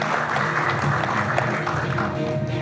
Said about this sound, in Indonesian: Kita berikan tepuk tangan untuk asisten Profesor Dr. Gema Guyardi.